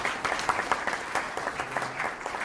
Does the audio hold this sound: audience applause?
yes